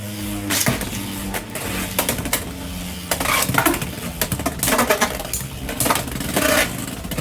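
Beyblade X tops Hells Scythe and Viper Tail clash inside a plastic stadium, a loud metallic whirring spin broken by repeated sharp clacks and rattling impacts throughout.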